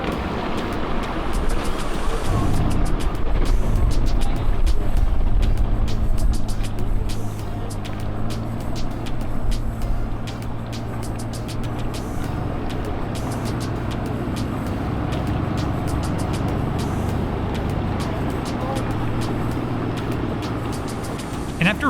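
A pickup truck tows a stuck boat trailer out at a launch ramp, its engine a steady low rumble and drone over broad road-like noise and water wash, loud and continuous throughout.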